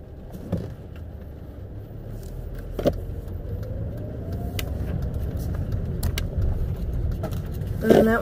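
A car drives along early in the morning, its engine and road noise forming a steady rumble from inside the cabin, with a few faint clicks and rattles over it.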